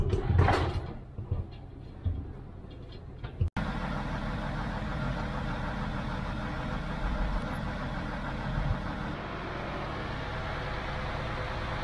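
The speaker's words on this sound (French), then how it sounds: "On entend bien le moteur. Oui, c'est un diesel." A railway diesel engine runs at a steady idle-like drone, a constant low rumble filling most of the clip after a brief burst of handling noise and muffled activity at the start.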